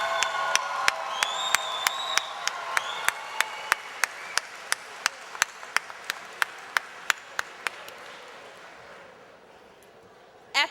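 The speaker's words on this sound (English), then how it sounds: "please give Mr. Thompson another Harris-Stowe round of applause" Graduation ceremony crowd at Harris-Stowe State University applauds with scattered whoops and shouts, sharp individual claps standing out near the microphone, the ovation tapering off gradually over ten seconds.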